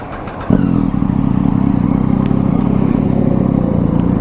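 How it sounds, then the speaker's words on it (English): A 2011 Triumph Street Triple 675R motorcycle engine starts up loudly at close range about half a second in, then settles into a steady, throaty idle with a slight uneven pulse, with no talking over it. "I'm gonna ride this Triumph 675R Street Triple again."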